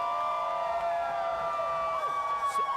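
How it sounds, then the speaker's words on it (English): Sirens wail over a downtown street rally crowd, several steady tones holding and sliding downward, fairly loud but a little distant, with a crowd murmuring underneath and no close talk. "Apparently sirens."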